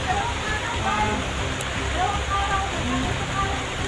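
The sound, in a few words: heavy rain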